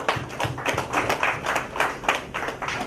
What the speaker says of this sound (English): It's wonderful applause.